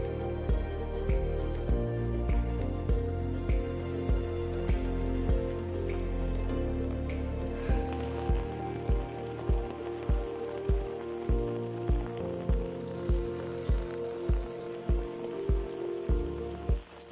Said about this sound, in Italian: Piovendo tantissimo